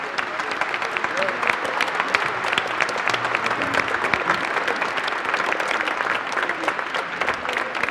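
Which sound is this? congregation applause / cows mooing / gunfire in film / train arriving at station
congregation applause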